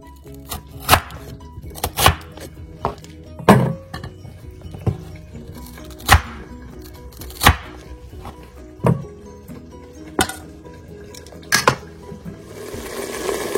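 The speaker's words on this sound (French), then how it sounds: "on commence à couper les pommes de terre" Knife chopping potatoes on a cutting board for a kefta, potato and pea tagine, about a dozen sharp, evenly spaced cuts landing roughly once a second, close and distinct, with no voices.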